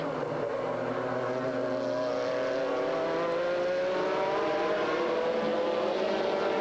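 An Audi race car driven by Emanuele Pirro in the 2000 American Le Mans Series works through traffic, its engine a loud sustained roar with rising pitch as it passes, mixed with other race cars on track.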